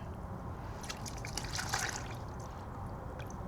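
Water runs steadily into a bucket for a rinseless car wash, a continuous close trickling and splashing stream that holds at an even level throughout.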